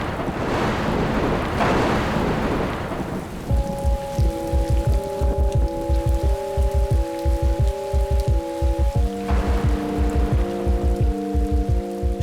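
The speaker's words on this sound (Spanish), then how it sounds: "Llueve en el campo y en la ciudad." Rain pours over countryside and city in a dense, steady rushing hiss for the first few seconds before music takes over and drowns it out.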